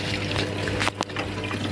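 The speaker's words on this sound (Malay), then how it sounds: "Tengok air dia. Air dah masuk kat dalam." Water filling an Electrolux EWF85743 front-load washing machine: a steady rushing, gurgling flow with a low hum underneath, broken by a brief clunk midway, continuous and close.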